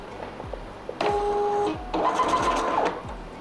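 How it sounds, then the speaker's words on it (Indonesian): A cashier receipt printer at a clothing shop checkout buzzes through two short printing bursts, close and clear, with the receipt feeding out between them over quiet room background. "Coba kita cetak."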